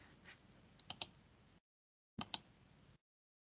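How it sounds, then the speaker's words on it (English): A computer keyboard and mouse give a few quiet, sparse clicks and taps in two short bursts, separated by silence. "I'm clicking around and hitting buttons"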